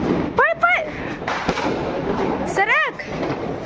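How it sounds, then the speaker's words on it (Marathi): Diwali firecrackers set off at a home celebration: a sharp pop and two brief whistling, rising-and-falling screeches, heard amid background chatter and voices. "गाइस हम फटाके पेटवतोय."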